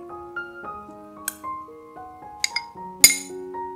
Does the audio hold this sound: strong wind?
no